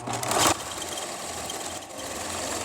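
A sewing machine stitching with a double presser foot on an embroidered pumpkin pillow, a steady close mechanical whir with a brief louder burst near the start, running continuously without talk.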